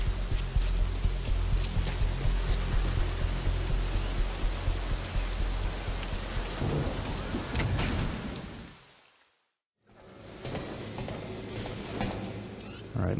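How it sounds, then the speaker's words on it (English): Rain falls at Mother Base in Metal Gear Solid V, a dense, steady patter with rhythmic thumping footsteps underneath. It cuts out into near silence for a moment, then returns more softly, as if from indoors. "Let's head downstairs and see if we can head indoors to escape the rain."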